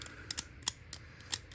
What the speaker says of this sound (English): it gets like stuck in place and you have to ratchet it forward